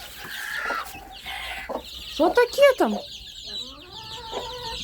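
Chickens, including Cochins and mixed breeds, cluck and squawk close by in short bursts, with a voice briefly speaking over them.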